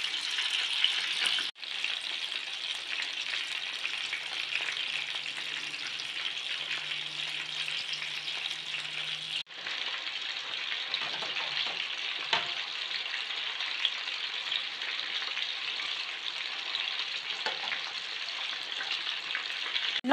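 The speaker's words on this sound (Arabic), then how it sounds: "حطيتهم يتقلاو في الزيت، نبقى نحرك فيهم ونعسهم باش ما يتحرقوش." Minced meat kofta frying in oil, a steady close sizzle that continues for the whole stretch, with occasional soft clicks as the pieces are stirred and turned, and no talking.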